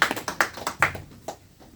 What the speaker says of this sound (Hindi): अपने लिए जोरदार ताली लगाइए।